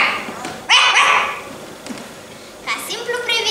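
A performer on a theatre stage vocally imitates a yard dog barking, giving a couple of loud, close bark-like yelps with brief pauses, other voice sounds around them.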